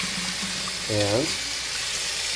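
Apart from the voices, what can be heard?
water running from a Moen faucet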